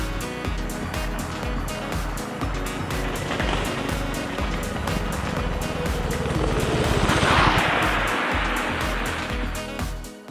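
A DIY off-road mobility scooter's electric motor drones steadily up close, with rumbling and a brief surge in the middle as it rolls along.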